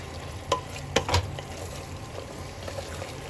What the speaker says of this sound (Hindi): इन सभी मसालों को 1 से 2 मिनट तक इसी तरह से भून लेंगे कीमे के साथ